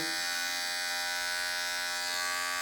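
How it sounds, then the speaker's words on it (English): Electric hair clippers trim along a hairline with a steady, close, continuous buzz that holds an even pitch for the whole moment. "you have to do the whole of the hairline with this one pair of clippers"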